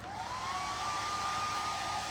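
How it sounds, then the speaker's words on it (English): A hair dryer blows steadily on a damp chalk transfer, a close continuous whirring rush with a faint whine that rises slightly as it runs. "we just need to dry this really quick with our hair dryer"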